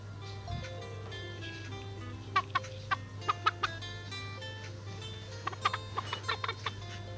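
Cartoon chickens cluck in a baby bird farming video game, with short bursts of clucks in quick clusters over a steady low electronic hum.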